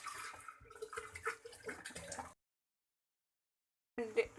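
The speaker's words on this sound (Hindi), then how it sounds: "2 लीटर पानी ऐड कर लिया।" About two liters of water poured into a cooking pot while making sobat, a splashing, gurgling pour for a couple of seconds, then silence before a brief second splash.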